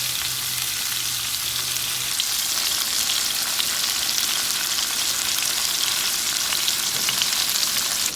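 Fish sizzles steadily in hot oil in a pan for Kerala-style fish molee, a dense continuous frying hiss with no talking.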